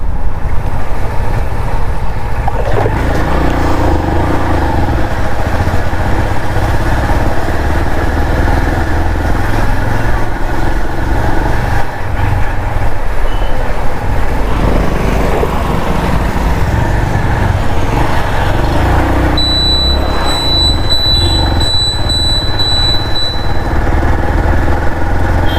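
A motorcycle ridden along a road, its engine droning loud and steady from close by with continuous road and wind rumble, no pauses across the whole stretch.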